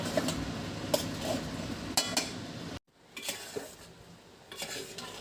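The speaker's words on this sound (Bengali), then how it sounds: "এখন আমি চালটা একটু ভাজা ভাজা করে তারপর গরম পানি দেব" Rice for khichuri fries in a hot pan, giving a soft sizzle broken by a few metallic scrapes and clinks of a spoon stirring against the pan, with a brief drop to near silence partway through.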